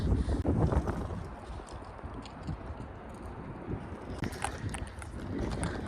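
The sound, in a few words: wind noise on microphone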